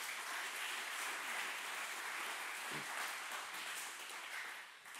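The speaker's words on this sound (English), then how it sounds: "Give them a decent round of applause." Audience applause for panellists at a journalism panel discussion: steady, dense clapping from a sizeable crowd, sustained for about five seconds before easing slightly at the end.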